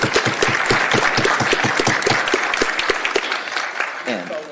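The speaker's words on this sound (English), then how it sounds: "Give him a round of applause." A room full of people applauds at an assembly, dense steady clapping that holds for several seconds before a voice comes in near the end.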